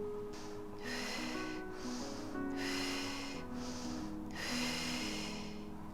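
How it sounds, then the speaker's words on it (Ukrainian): Deep diaphragmatic belly breathing, with slow, steady breaths repeating about four times, close and clear, with no talking. "А це діафрагмальне дихання."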